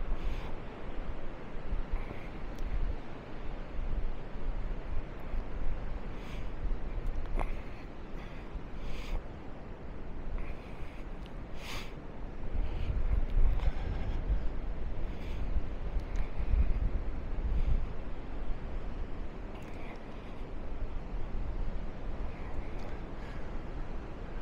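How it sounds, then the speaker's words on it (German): Wind blows steadily at the beach in Maspalomas, Gran Canaria, a constant broadband rush with microphone buffeting and faint surf underneath, lasting throughout without talk. "Ja, ein bisschen mehr Wind und dann ist schon wieder hier der fliegende Sand."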